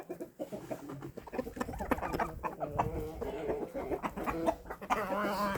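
Cochin chickens in an evening farmyard cluck and chatter continuously, several birds close by with overlapping murmuring calls and a few sharper clucks rising toward the end.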